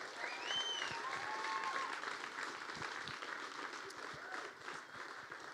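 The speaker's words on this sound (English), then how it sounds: "let's give a round of applause again for all the teams" An audience at a university entrepreneurship demo day claps for all the teams, sustained mid-level applause holding steady throughout and easing slightly near the end.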